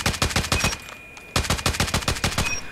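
Rapid bursts of QQ9 submachine gun fire in Call of Duty Mobile, loud and close, a quick stream of shots that pauses briefly and then resumes.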